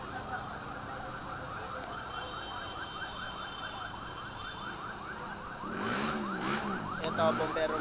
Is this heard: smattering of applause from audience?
no